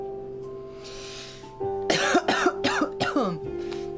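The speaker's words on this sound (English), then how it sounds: "It's coughing in my bony elbow." A streamer coughs into an elbow: a quick run of about five harsh, close coughs after a quiet stretch with a steady background hum.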